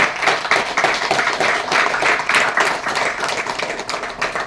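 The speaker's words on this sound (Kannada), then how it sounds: "ಚಪ್ಪಾಳೆಯೊಂದಿಗೆ ಅವರಿಗೆ ಶುಭ ಹಾರೈಸೋಣ" A crowd claps steadily throughout, a dense, continuous patter of many hands with no voices standing out.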